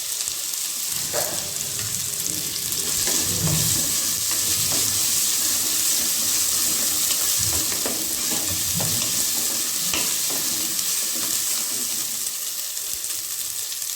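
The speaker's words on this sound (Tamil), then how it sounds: "இதோட கருவேப்பிலை சேர்த்துக்கலாம். கருவேப்பிலை கொஞ்சம், புதினா கொஞ்சம் சேர்த்து" Curry leaves and mint frying in hot oil with a constant crackling sizzle, while a spoon stirs and scrapes the pan now and then, close and without speech.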